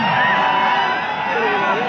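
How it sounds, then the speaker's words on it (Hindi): Spectators at a local football tournament match in Dumka, India, cheering and shouting in a loud, continuous roar of mixed voices, with whoops rising over the din. "दर्शकों का कोलाहल दर्शकों के चिल्लाने की आवाज से आप समझ सकते हैं"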